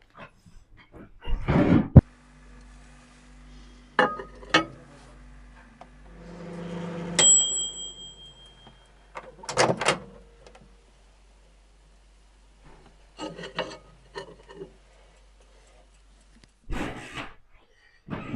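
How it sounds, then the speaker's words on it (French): A 600-watt microwave oven heating matcha green tea cookies: door clunks and latch clicks, a soft hum while it runs, a sharp completion beep, then more handling and door sounds, all quiet and close. "on en a fait chauffer au micro-ondes, 600 watts, micro-ondes de 600 watts, 20 secondes"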